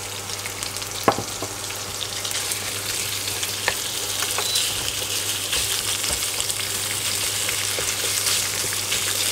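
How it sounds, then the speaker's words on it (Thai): Ground pork is stir-fried with glass noodles and holy basil in a hot pan, giving a steady close sizzle with scattered scraping clicks of the spatula throughout. "ผัดหอมๆเลยแต่เราก็ตามด้วยหมูบดนะครับ"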